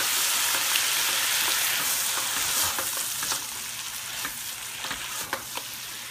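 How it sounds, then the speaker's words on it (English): Chicken penne sauce being stirred in a hot pan, giving a continuous frying sizzle broken by scattered spoon scrapes and light taps, close and steady. "Stir all this together."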